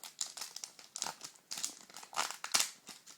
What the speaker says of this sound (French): Donc c'est parti pour le dernier booster, si je peux l'ouvrir.